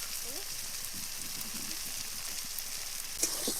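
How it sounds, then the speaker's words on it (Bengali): Prawns sizzling in hot oil in a pan for chingri malai curry, a steady crackling fry under faint background voices, with a brief sharper clatter near the end. "আমি এদিকে মাছগুলো সব ভেজে নিই"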